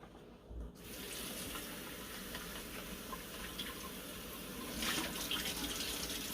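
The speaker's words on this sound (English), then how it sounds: "normally I get this wet, rinse it off really well so it'll siphon better" Tap water runs steadily over a brine shrimp strainer screen being rinsed in a sink, a continuous close splashing hiss after a brief quiet start, swelling slightly near the end.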